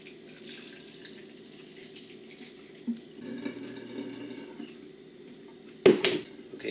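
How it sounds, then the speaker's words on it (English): Water runs steadily from a tap into a container for wheatgrass juice, a soft continuous trickle with a few light knocks and a louder clunk near the end. "Add some water."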